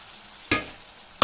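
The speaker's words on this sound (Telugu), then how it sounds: "ఇలా మగ్గిన తర్వాత ఇందులోనే మనం ముందుగా కట్ చేసి పెట్టుకున్న టమాటా వేసుకుందాం" Chopped tomatoes tip into a hot pan of ginger garlic paste and turmeric, producing a sudden loud sizzle that fades, then a second sharp hiss as more hits the oil, with no talking.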